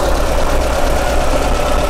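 An air-cooled VW Type 4 engine idles steadily with a low, even rumble and a slight rough knock, continuous and close, with no voices.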